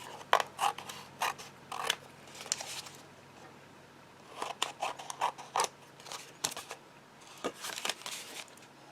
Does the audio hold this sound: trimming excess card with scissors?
yes